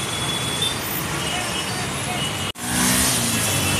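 Dense road traffic disturbed by metro construction work in Indore, a steady loud wash of engines and passing vehicles close by, briefly cut then returning stronger, with a voice talking over it.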